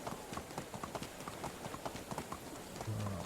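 Horse hooves clip-clop steadily in the Medieval Dynasty video game, a brisk even rhythm of close, distinct hoofbeats running throughout with no talk over them.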